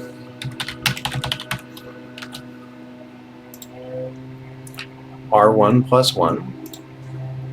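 Keys clatter on a TI-99 home computer keyboard as a BASIC program is typed in, bursts of quick clicks with gaps, close by, with someone speaking over part of it.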